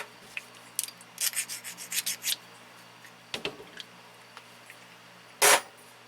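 A hand reamer scrapes the end of a brake line in a burst of short rasping strokes, faint and close, followed by a couple of scattered clicks and one louder scrape near the end, with no talking.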